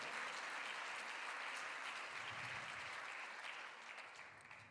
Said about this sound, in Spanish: Si va a aplaudir al Señor, déselo más fuerte